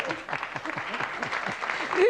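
Studio audience applause on a Turkish TV entertainment show, a steady wash of clapping running throughout with talk over it and a brief laugh-like voice near the end.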